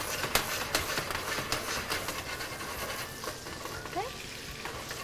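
Pecan butter and lemon sizzle in a hot pan in a Louisiana kitchen, a close crackling hiss with scattered sharp clicks as the pan is shaken, and a voice talking briefly over it.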